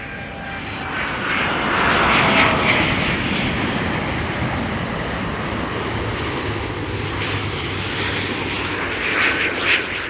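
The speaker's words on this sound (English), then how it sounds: "Delta Airlines Flight 136 is arriving from Detroit, Michigan." A Delta Airlines airliner arriving at Amsterdam Schiphol Airport roars past with a loud, sustained engine rumble and whine, swelling and holding steady for several seconds with no talk over it.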